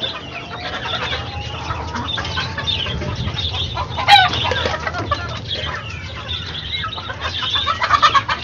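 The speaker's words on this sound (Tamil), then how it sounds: "அது அது ரெண்டுமே சேவல்." Roosters on a rooftop in Chennai where country chickens are kept, clucking in scattered, overlapping calls at moderate distance over a steady background murmur, with one brief louder squawk midway.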